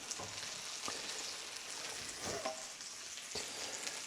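Bread frying in a bacon pan over a wood fire, a soft continuous sizzle with a few light scrapes and taps of the bread being moved, heard close and quiet with no speech.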